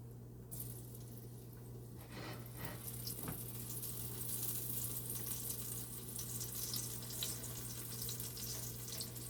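Vegetables and peppers frying in very hot oil for a Jamaican dish, a steady close hiss and sizzle that swells after a brief quieter start and keeps going without a break, with no talk over it.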